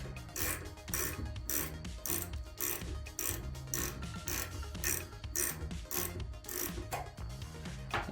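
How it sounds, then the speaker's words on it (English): A Craftsman V-Series metric ratcheting wrench loosening a fastener, producing a steady run of rapid, crisp ratchet-pawl clicks in regular bursts, close up and alone with no talking. "Now you change the lever direction and now you can loosen."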